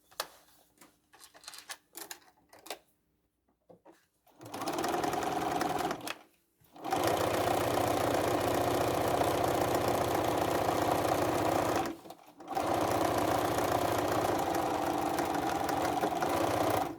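A sewing machine zigzag stitches a red velvet tote bag in several loud, steady whirring runs separated by brief pauses, after a few soft handling clicks and taps at the start.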